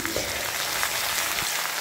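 Crushed garlic frying in hot oil with bay leaf and cumin, a loud continuous close sizzle with a few stirring scrapes mixed in.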